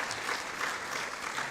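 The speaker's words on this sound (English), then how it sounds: "you should give that a round of applause as well" Crowd at a government town hall meeting at a trade centre annex clapping, a brief steady patter of applause from many hands at moderate level, heard on its own.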